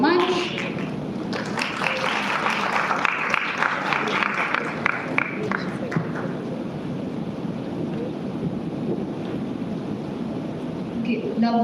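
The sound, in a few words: audience applause after presentation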